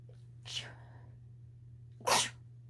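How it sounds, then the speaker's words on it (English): Indoors, a woman gives a short sniff or breathy lead-in, then after a pause lets out one sharp, loud sneeze, close, over a steady low electrical hum. "I'm about to sneeze."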